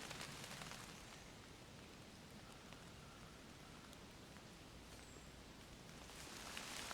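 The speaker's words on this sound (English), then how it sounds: "Rain on a tarp." Rain falls on a tarp outdoors, making a soft, steady patter and hiss that stays even and fairly faint the whole time, with no voices.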